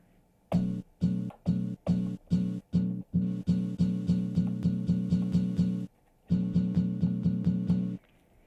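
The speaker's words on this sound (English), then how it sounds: "Something called dimension." A Zoom Sampletrak lo-fi sampler playing a repeated chopped pattern through its dimension effect, steady rhythmic stabs in two runs with a short gap, clear and with no voice.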